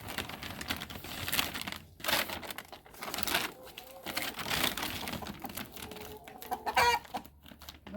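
Chickens cluck softly in the background while feed bags crinkle and rustle nearby, the clucks faint and scattered under the crackling plastic.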